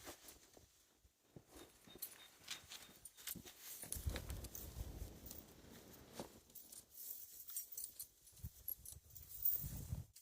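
Hooves clop irregularly on a hard surface at moderate distance, with shuffling and faint background noise throughout.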